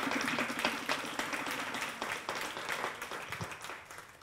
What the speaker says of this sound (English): that's a round of applause for Viviana for flying all the way from London